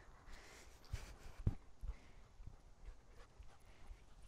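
An excited 10-month-old German Shepherd puppy pants and whimpers softly nearby, with a few light thumps of movement in a quiet outdoor setting.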